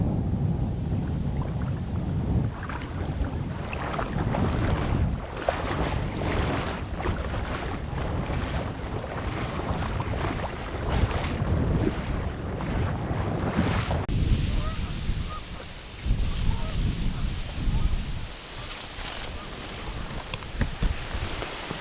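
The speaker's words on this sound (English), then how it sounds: "The wind's picking up." Wind gusting across open water during a South Dakota duck hunt: constant rumbling buffeting against the microphone, with brief louder gusts and a rush of waves, close and loud throughout.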